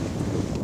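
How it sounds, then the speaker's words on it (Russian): Wind gusting into a camera microphone outdoors on open sandy ground during a metal-detecting outing, a brief, loud, rumbling buffet that covers everything else. "Ветер дует. Сейчас в камеру будет задувать."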